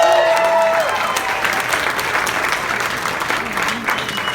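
Stand-up comedy show audience breaking into loud, sustained applause with cheering and whistles, a dense crowd roar holding steady throughout.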